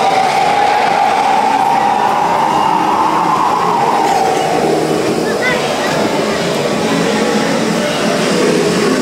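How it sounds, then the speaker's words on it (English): The Disneyland Railroad train rolls steadily past at close range, a continuous rumble and rattle of cars on track with a faint whistle-like tone, while people talk over it. "Ah, yes, the great Disneyland Railroad."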